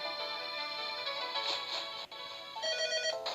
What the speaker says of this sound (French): c'est le téléphone qui a sonné